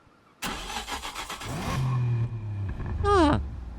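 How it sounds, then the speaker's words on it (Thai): A Nismo 1000R engine in Need for Speed Unbound cranks and fires up, then revs in a few sharp bursts before settling, with a synthetic, game-like quality and a rising whine near the end. "เสียง สตาร์ทเครื่องโคตรเท่เลย"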